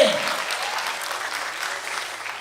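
A comedy show audience claps together, a dense burst of applause that starts strong and slowly tapers off over a couple of seconds.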